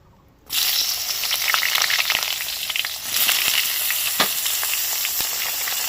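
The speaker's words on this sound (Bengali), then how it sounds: "এবারে ভেজে নেবো বেগুনগুলোকে" Eggplant pieces hit hot oil in a pan and burst into a loud, steady sizzle that keeps going, with scattered crackles and pops throughout.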